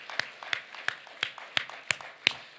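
Congregation clapping together in a Korean church during a festive worship service, seven sharp, evenly spaced claps in a steady rhythm, fairly faint and with no talk over them.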